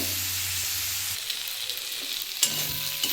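A brief burst of hot-oil sizzling as a turmeric-coated fish head fries for spinach chachhori, nearby and constant, with a couple of soft stirring knocks near the end.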